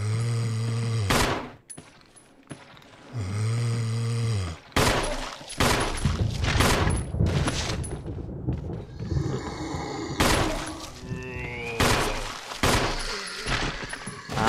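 Gunfire aimed at zombies in Resident Evil, several sharp loud shots spaced irregularly across the stretch, some in quick pairs, with game noises and growling filling the gaps between them.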